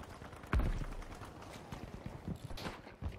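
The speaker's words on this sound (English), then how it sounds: "I hear footsteps. Close." Close footsteps in the Battlefield 5 shooter: one sharp heavy step, then a few lighter, uneven steps over a low game-ambience bed.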